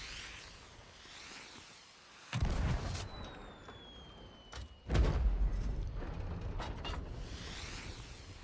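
Two heavy ship cannon shots boom out in Sea of Thieves a few seconds apart, each a deep, close blast that rolls into a long rumbling tail, with creaking and a thin whistle in between.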